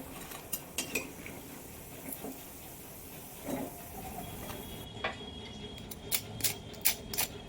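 Crispy fried cheese paneer sandwich crunching in sharp, close, uneven bites and cuts, sparse at first and then quicker and more frequent toward the end, against a faint background.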